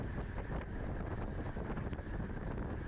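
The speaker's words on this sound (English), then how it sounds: "The wind's not too bad." Steady buffeting wind roar on a microphone during a road bike race on a circuit with a light crosswind, dense and continuous throughout with no talk.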